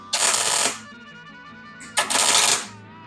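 Two short bursts of buzzing, crackling tack welding on a 1950 Ford Shoebox body during a chop top, each lasting about half a second, separated by a quiet pause.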